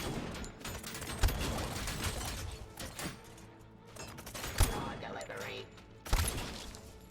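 Gunfire in the video game Robocop Rogue City: a busy run of shots with a few sharp, louder bangs standing out against constant clatter and game noise. Speech is also present.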